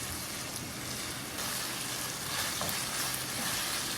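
Tomato paste and colored peppers frying in a pan for a Homs-style bulgur with tomato dish: continuous close, bright sizzling and crackling, with light stirring scrapes throughout.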